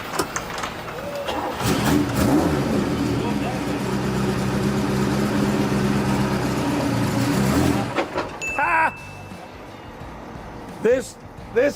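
The engine of a six-wheeled Ferrari Testarossa 6x6 cranks, catches and revs, a loud, rough roar that holds for several seconds and then cuts off abruptly, followed by quieter mechanical noises. People talk during it.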